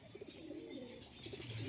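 Pigeons at a loft give soft, low cooing in a quiet, continuous murmur with no talking.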